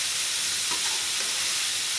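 Soaked whole red lentils being fried with prepared masala in a pan, giving a steady, close sizzle with soft stirring scrapes throughout.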